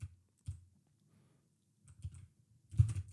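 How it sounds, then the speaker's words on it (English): Typing on a computer keyboard, heard as scattered bursts of close clicking keystrokes separated by short pauses, with a denser flurry of keys near the end and no talk. "There's so much typing involved in this."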